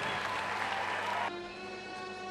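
Short burst of audience applause for a singer after a live performance, steady clapping that cuts off abruptly partway through as sustained music tones take over.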